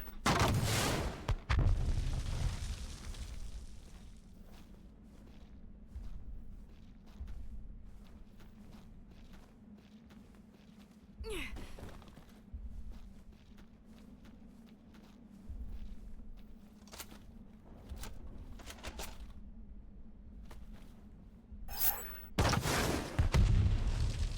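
Rocket launcher blasts and explosions in the game Left Alive, several heavy booms spaced across the span, the loudest at the start and near the end, with quieter thuds and rumbling between, no talk.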